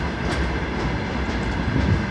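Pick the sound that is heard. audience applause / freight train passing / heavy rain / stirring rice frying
freight train passing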